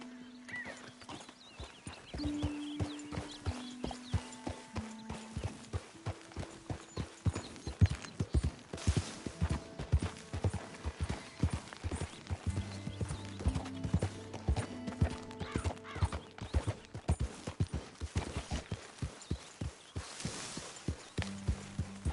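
Horse hooves clip-clopping in Red Dead Redemption 2, a steady rhythmic run of crisp hoofbeats with occasional snorts and a whinny, heard alone against quiet game ambience.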